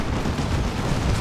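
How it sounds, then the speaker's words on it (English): A Cyclone Missile Launcher fires in a Dawn of War 2 battle, giving a dense, continuous rumble of rapid explosive blasts and booms that stays loud throughout with no clear pauses. "Cyclone Missile Launcher does some good work there."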